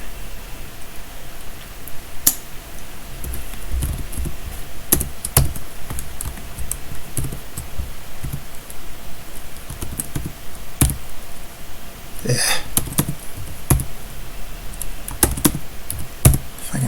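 Computer keys are typed in quick bursts of clicks and taps, close and steady, with brief pauses and a few heavier strokes across a long stretch, no talking.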